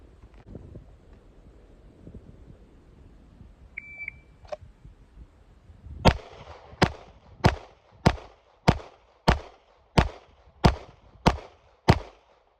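Pistol rapid-fire drill of 10 rounds in 10 seconds, ten sharp loud shots at a steady even pace after a timer beep, with quiet outdoor ambience before the string.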